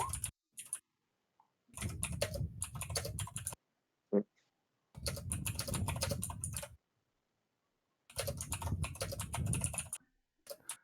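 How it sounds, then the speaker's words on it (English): Bursts of rapid typing on a computer keyboard during an online tabletop game session, several clustered runs of clacking keys separated by silent gaps, with one sharp click between them. "is typing viciously"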